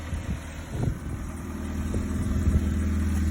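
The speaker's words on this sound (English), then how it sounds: "I think it's got a little bit of a hole in the muffler. That's why it's sounding a little loud." A 2007 Jeep Compass 4X4 engine with a holed muffler runs at idle, giving a low, loud, steady exhaust rumble that swells slightly toward the end, heard up close.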